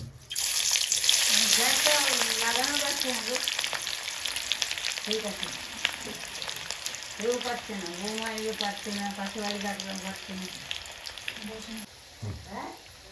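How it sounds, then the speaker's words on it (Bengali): Chopped green chillies and onion hit hot oil for tempering, a loud crackling sizzle that holds steady throughout, with someone talking over it. "দুটো লঙ্কা কেটে দিয়ে দিচ্ছি দিয়ে দিচ্ছি পেঁয়াজ ফোড়ন"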